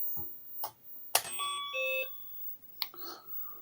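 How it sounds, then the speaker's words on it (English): BBC Micro computer switching on, giving a short electronic startup beep amid a few clicks and thumps from handling the hardware, fairly close and with no talking. "The beep starts and I've got a green LED."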